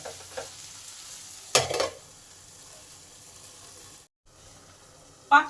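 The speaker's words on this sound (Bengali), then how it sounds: "এবার পাঁচ থেকে ছ মিনিটের জন্য চাপা দিয়ে দিলাম যাতে ভেন্ডিগুলো এইটটি পার্সেন্ট সেদ্ধ হয় আর ভাজা" Okra for a vegetarian bhindi masala frying in a covered pan, giving a quiet, steady sizzle broken by a couple of short clattering bursts from stirring or the lid.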